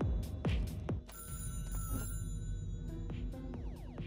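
In the video game Crying is Not Enough, a telephone rings with repeated bell-like electronic tones over low ambient game noise and occasional footsteps.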